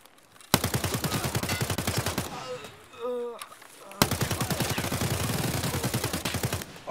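Rapid automatic gunfire in the video game Escape from Tarkov, two long loud bursts of dense, evenly spaced shots separated by a short lull with a voice in between.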